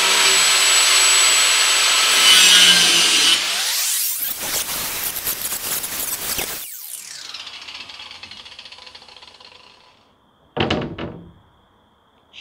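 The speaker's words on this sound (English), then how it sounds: "just use the angle grinder to cut down the protruding ends of those screws" An angle grinder trims protruding screw ends on a wooden worm bin hinge: a loud, high whine spins up and bites for several seconds, winds down, then a second short burst of grinding follows near the end.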